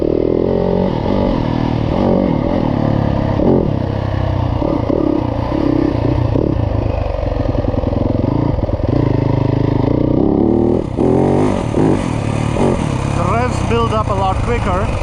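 A Yamaha YZ250F dirt bike engine runs loud and close, revving steadily with a rough, clattering drone that climbs in pitch near the end, with no pauses.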